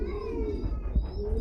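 Pigeons cooing at close range, one soft low coo with a faint rustle, heard in a quiet spot at a bird market.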